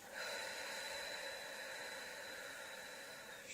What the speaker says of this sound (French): j'inspire, j'expire avec la bouche